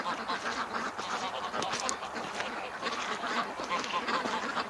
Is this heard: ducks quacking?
yes